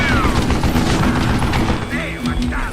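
Gunfire and booms in the Western shooter video game Call of Juarez: Gunslinger, dense continuous crackle of shots with heavy low rumble, loud and close, with someone speaking over it.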